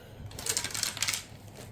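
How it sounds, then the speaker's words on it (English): Four-sided triangular dice tumble and clatter across a surface in a quick, dry burst of light clicks that fades after about a second, with no talking. "do you want to roll a 4-sided dice instead of a 6?"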